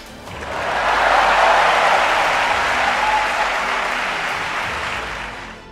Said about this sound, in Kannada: ಕಾರ್ಯಕ್ರಮದಲ್ಲಿದ್ದ ಕರುನಾಡಿಗರೆಲ್ಲ ಚಪ್ಪಾಳೆ ತಟ್ಟಿ ಶಿಲ್ಲೆ ಹೊಡೆದು ಹುರಿದುಂಬಿಸಿದ್ರು